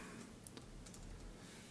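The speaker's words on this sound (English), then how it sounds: "if I start typing" A few faint, sparse keystrokes on a computer keyboard click softly over a quiet room hum, with short gaps between taps.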